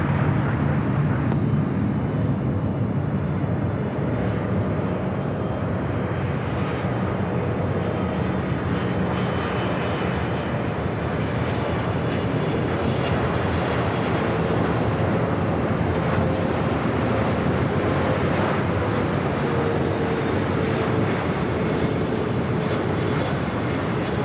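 A plane landing at Los Angeles airport produces a loud, continuous jet engine roar that stays steady throughout, heard from fairly close by with no talking.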